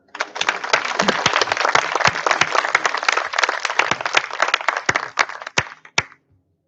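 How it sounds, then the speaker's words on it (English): Warm audience applause at a sports complex ribbon-cutting ceremony, loud dense clapping that swells quickly and then thins to a few last scattered claps before stopping. "Ladies and gentlemen, please give a warm round of applause for Dr. Matt Doyle."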